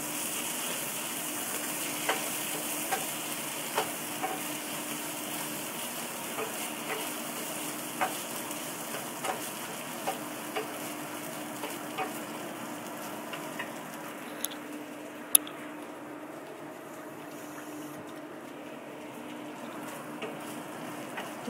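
Satay spice paste sizzling steadily in a pan with bakso meatballs, a continuous frying hiss broken by light periodic scrapes and taps of stirring, close and moderately loud, no voices.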